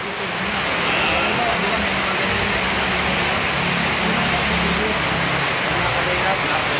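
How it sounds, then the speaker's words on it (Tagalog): Heavy rain pours onto a roof in a dense, steady roar of hiss that fills the whole clip without pause, with no voices over it. "Grabe ang patak sa bubong."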